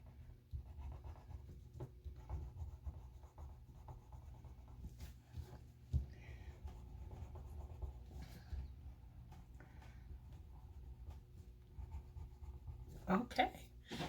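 A marker scratches and strokes across a stamped birthday card as leaves are coloured in, a soft, close, continuous scribble with a few small taps, while a person talks at times.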